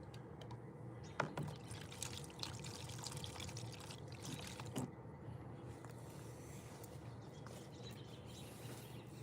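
Wood stain is poured during a staining session for a wooden wedding backdrop, giving a faint, continuous liquid trickle and dribble with a few small knocks, close by and with no talking.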